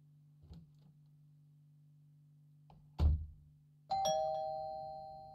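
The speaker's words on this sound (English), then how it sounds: "Doorbell rang." A quiet steady hum with a couple of soft thuds, then a horror video game doorbell chime rings out clearly and lingers as it fades.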